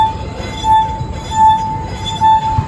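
A wet finger circles the rim of a drinking glass, drawing out a steady pure ringing tone that swells and fades in loudness, clear and close with no talking.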